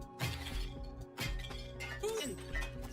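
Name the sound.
hammer smashing things in a video game trailer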